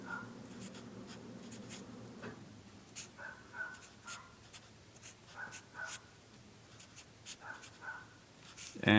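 Pen or pencil writing out the answer to a calculus integral problem, a steady scratching with short strokes and pauses running through the whole stretch, fairly faint and close, with no talking.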